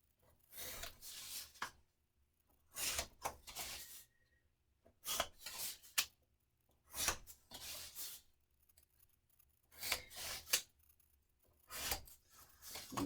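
Paper being trimmed for a 6x8 Fourth of July mini album: quiet repeated scraping cuts in short bursts separated by pauses, close and soft, no talk.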